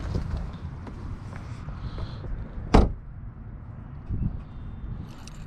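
A 2020 BMW 330i in a cabin setting: low rustling movement, then one sharp, loud thump of the car door near the middle, followed by quieter handling noises.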